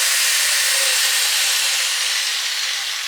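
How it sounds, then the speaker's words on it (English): Rat tail sander with variable speed starting up and running, a loud, steady high-pitched whine and hiss held close and continuous for the whole stretch. "It's called a rat tail sander because of the tail on it."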